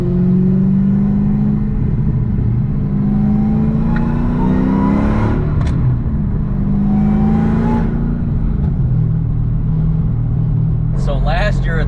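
A Dodge Hellcat Charger swapped to a 6-speed manual burbles loudly and close up with a deep, rumbling exhaust. The engine note rises and falls through several revving sweeps, and a person talks over it.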